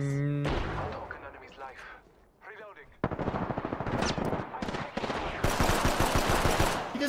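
Rapid automatic gunfire in the mobile battle-royale game Apex Legends Mobile, with loud bursts of shots clustered through the second half, mixed with game effects.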